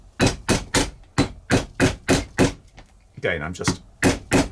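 A hammer striking a setter onto saddlers brass rivet burrs in leather, a rapid series of about a dozen sharp, loud metallic taps in steady rhythm, with a brief spoken phrase in between.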